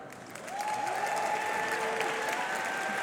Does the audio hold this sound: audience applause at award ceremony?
yes